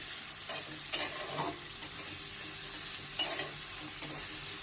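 Curry leaves and chopped onion are stirred in a hot frying pan, a steady sizzle running throughout with occasional soft scrapes of the spoon, close and fairly quiet.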